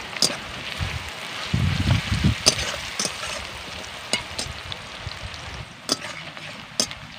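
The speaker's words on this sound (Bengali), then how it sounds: "পেঁয়াজকে আমি লাল করে ভেজে নেব" Salted onions frying in oil in a pan, browning for a fish biryani: a continuous crackling sizzle with sharp clicks of a spatula stirring and scraping at intervals.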